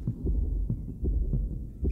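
A low, muffled heartbeat thuds steadily in the video game The Mimic, with paired beats repeating about every half second over a deep droning hum, no voices.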